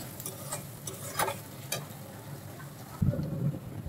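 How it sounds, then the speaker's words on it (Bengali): Dried fish, onion and garlic frying together in a pan, a steady sizzle broken by scraping stirring strokes, close and moderately loud. "এখানে আমি শুটকি পেঁয়াজ আর রসুনটাকে একসাথে এখানে ভাজবো বেশ অনেক সময় নিয়ে"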